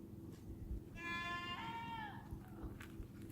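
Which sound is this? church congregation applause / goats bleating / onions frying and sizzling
goats bleating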